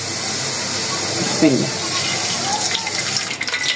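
Mustard oil from a ghani mill is poured into a pan for homemade pickle, giving a steady, fairly loud pouring hiss that runs the whole time, with a brief splash partway through.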